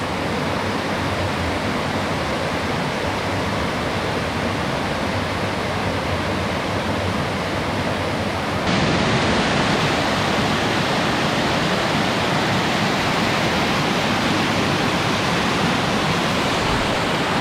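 A waterfall in Connecticut roars steadily, a dense broadband rush of falling water that grows a bit louder and fuller partway through, with no voices.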